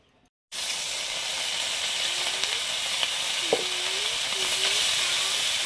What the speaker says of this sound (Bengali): মৌরলা মাছগুলো ভেজে নিচ্ছি